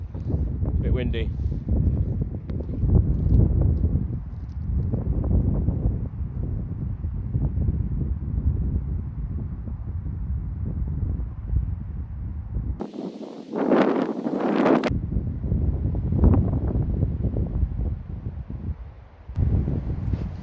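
Gusty wind buffets an outdoor microphone on a hillside walk, a steady low rumble running throughout with a sharper roaring gust partway through, while a person talks at intervals.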